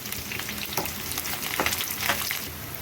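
Onion, green chili and curry leaves fry in hot oil alongside whole spices, a steady sizzle with a few louder stirring scrapes, close and continuous with no talking.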